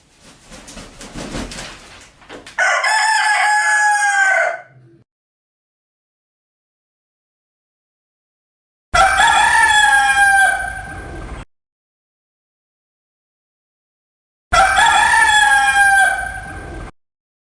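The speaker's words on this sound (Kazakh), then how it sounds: "Әтеш." Three separate rooster crows, each a loud, drawn-out cock-a-doodle-doo of about two seconds with silence between them, the first preceded by rustling farmyard noise.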